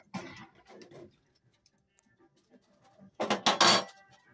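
A spoon stirs mung and masoor dal in a pot of hot water, giving two short bursts of clinking and scraping against the metal with a quiet pause between them.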